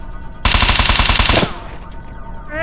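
Rapid automatic gunfire erupts loud and close in the SWAT 3 video game, a rhythmic burst of closely spaced shots lasting about a second before cutting off into quieter background noise.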